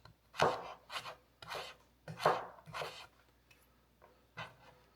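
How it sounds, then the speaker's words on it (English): A knife slices thin pieces into strips for a Greek-style banh mi, making about seven crisp, rasping strokes at an uneven rhythm, close and fairly quiet with no talking. "Now once we've got them into our thin pieces, we can cut them into nice little strips."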